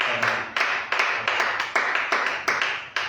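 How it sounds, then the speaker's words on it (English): A church congregation claps their hands in steady, regular bursts about every half second, a full room of hands striking together with no talking. "Let's give a hand clap to the Lord."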